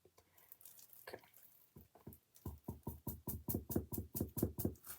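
Resin base being poured into a mold in a session preserving a spiny flower mantis, heard as a quick run of soft wet drips and knocks that speeds up into a steady rhythmic series.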